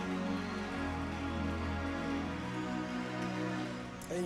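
A Sunday service congregation in Durban gives a long round of applause, steady crowded clapping mixed with sustained organ-like tones, tapering slightly near the end.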